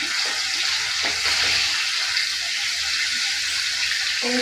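Seven or eight green chillies fry in a hot pan with a loud, dense, continuous hiss and sizzle that stays unbroken throughout.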